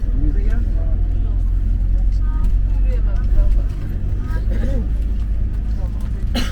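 Inside a dolmuş shared minibus riding through Ankara, a steady low engine and road rumble runs continuously and fairly loud, with people talking over it.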